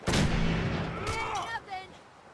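Gunfire in the Fallout 4 video game: a loud, dense burst of shots at the start that fades over the next second, followed by quieter scattered sounds, with some speech-like activity beneath.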